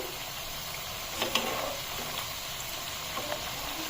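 Onion pakoras deep-fry in refined oil with a continuous, fairly faint bubbling sizzle and a couple of light clinks from handling, steady and without talk.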